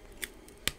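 Scissors trimming mask material, two quick crisp snips about half a second apart, close and fairly quiet against a faint background.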